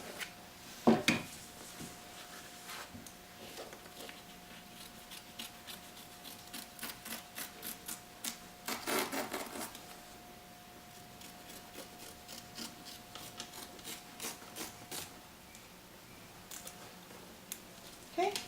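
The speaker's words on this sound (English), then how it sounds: "we're going to take our scissors and we're going to cut really close without cutting the stitches around this shape here" Scissors snip through fabric close around appliqué stitching on a bunny basket pocket, a series of soft, scattered cutting sounds and rubs recorded up close.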